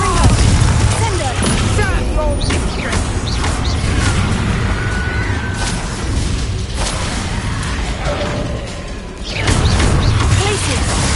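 Spell explosions go off in Hogwarts Legacy combat as a steady run of booms and bursts over dense game sound, with a voice heard throughout.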